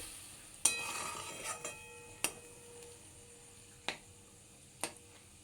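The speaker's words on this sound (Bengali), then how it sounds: "একদম অল্প একটু জল দিয়ে এটাকে আবার একটু ভালো করে নাড়াচাড়া করে নিয়ে" Maggi noodles with a splash of water are stirred in a pan, a faint low sizzle beneath several sharp, separate clinks and scrapes of the utensil against the metal at irregular intervals.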